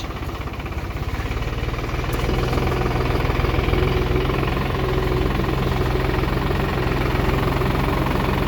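A New Holland TD4 65 tractor engine idles close by with a steady, throbbing low rumble and rattle that holds constant throughout, with no talking.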